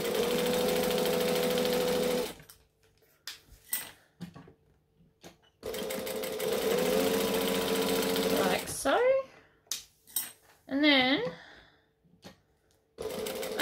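A sewing machine top-stitching fabric edges runs in two loud, close, steady bursts of rapid stitching, with fabric handling, clicks and a voice heard in the pauses between them.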